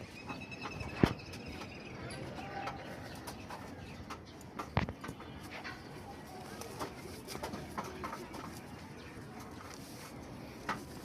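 Racing pigeons cooing softly at a club loft, low murmuring coos with a couple of sharper knocks, fairly faint against steady background noise.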